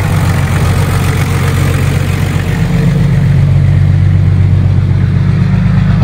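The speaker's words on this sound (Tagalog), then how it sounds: "Tignan natin yung exhaust sa likod." A turbocharged Nissan Patrol with a TD42 diesel engine and full exhaust rumbles steadily near the tailpipe, a loud, even low drone that rises slightly toward the end, with no voices.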